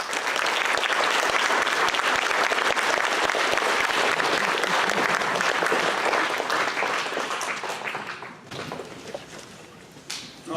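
An audience at the Fort Wayne, Indiana Future City award ceremony gives loud, sustained applause to welcome Dr. Elzenbaumer to the stage, and the clapping fades to scattered claps near the end.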